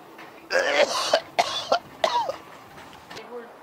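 A series of hoarse coughs close to the mic, four or five bursts in quick succession, then quiet.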